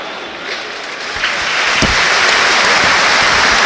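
A stadium crowd at Portman Road joins in a minute's applause during Ipswich Town against Brighton & Hove Albion, clapping swelling from scattered claps into a loud, sustained wall of applause.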